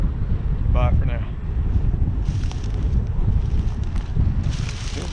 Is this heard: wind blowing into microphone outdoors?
yes